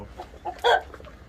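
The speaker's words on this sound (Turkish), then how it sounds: "haydi bakalım tavuklarımızı da göster Serdar'ım" A single short burst of chicken clucking from a coop stands out near the middle, fairly close, over a low background hum.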